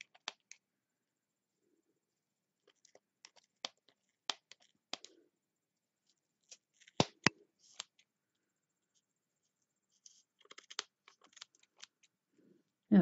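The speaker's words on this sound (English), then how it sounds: "Just slide your scissors in." Sparse, quiet snips and small clicks of scissors cutting, irregular taps scattered across near silence with a couple of sharper snaps.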